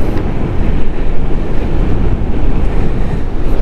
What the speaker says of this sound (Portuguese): acho que tem muito vento